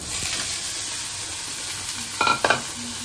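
Idli stir-fried in ghee with mustard seeds, a steady close sizzle with two quick metallic scrapes of a spatula near the end, no voices.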